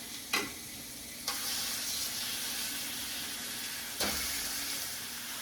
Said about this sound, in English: Don't forget the sizzle. If it's not sizzling, take it out.